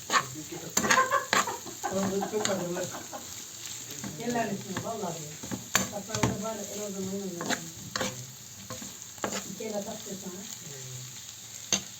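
Oil sizzling steadily in a pan while cooking chickpea stew with rice and chicken, a continuous crackling hiss with scattered sharper pops and clatters throughout.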